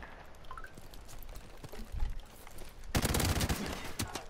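Gunfire in Call of Duty: Modern Warfare Remastered, scattered shots building into a dense, loud burst of rapid automatic fire in the final second and a half, with no talking.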